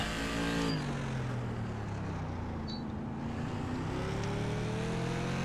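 An SK Modified race car engine in iRacing at the LA Coliseum track, droning loud and close with rising and falling pitch as it brakes and pulls out of a turn, alone with no talk.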